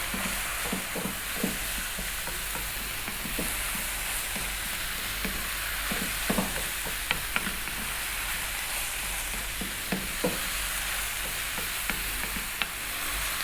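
Chicken, carrot and green onion spring roll filling stir-frying in a hot pan, a steady close sizzle broken by frequent scraping and clacking strokes of the spatula, with no talking.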